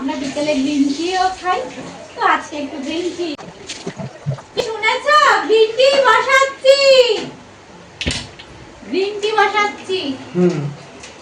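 Tap water runs into a container in a home kitchen while tea is being made, a steady splashing wash held under near, continuous conversation.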